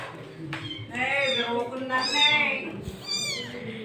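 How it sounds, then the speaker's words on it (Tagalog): A pet cat meows repeatedly at close range, several rising, drawn-out cries across a few seconds, with a person talking to it over steady household background noise. "Tingnan natin yung pusa."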